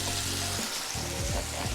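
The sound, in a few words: steak searing in a frying pan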